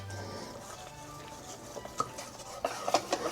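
A whisk stirs pancake batter in a bowl, making soft swishing strokes that grow into quicker clinking scrapes against the bowl near the end. It is close and quiet.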